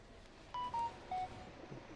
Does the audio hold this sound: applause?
no